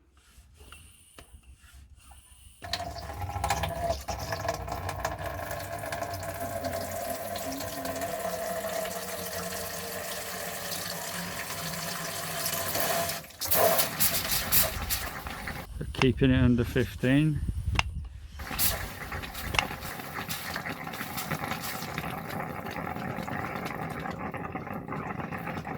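Water drains from a caravan's hot tap through a Floe device during winter drain-down, a steady rushing flow with sputtering, gurgling bursts midway and a brief spoken remark.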